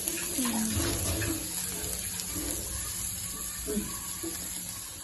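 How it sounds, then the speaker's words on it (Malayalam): Water is poured into a cooking pot while preparing a dried fish curry, a steady splashing flow lasting the whole stretch, with faint voice-like sounds in the background. "കുറച്ച് വെള്ളം ഒഴിക്കുക"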